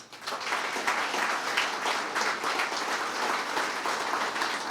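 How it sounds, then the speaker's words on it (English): An audience at a fire and EMS awards ceremony gives a quick round of applause, a full, steady patter of many hands clapping close and fairly loud that continues evenly with no voices over it. "give me a quick round of applause for them"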